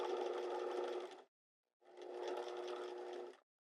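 A sewing machine runs in two steady bursts of stitching while sewing a square neck top, with a brief pause between them and the motor hum close and even.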